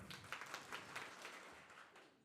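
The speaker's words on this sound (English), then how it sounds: "Give me 5 claps" A crowd claps on cue at a pitch event, a short burst of several quick, fairly distant hand claps that fades into scattered applause.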